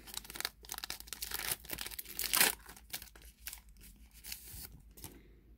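A Topps Star Wars Mandalorian medallion card pack is torn open by hand, with close, faint crinkling foil and short ripping bursts, one sharper tear midway, then quieter rustling.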